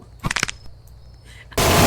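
Gunfire in a Roblox video game comes as a quick burst of several sharp shots, loud and close. A pause follows, and then a sudden wash of loud noise cuts in.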